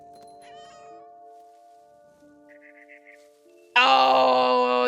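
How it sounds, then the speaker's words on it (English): A cat in the video game What Remains of Edith Finch makes odd chattering noises at a bird, first soft and faint over a steady game tone, then a sudden loud, sustained yowl. "this is how cats feel when they can't, when the bird is outside the window and they make the weird noises at it"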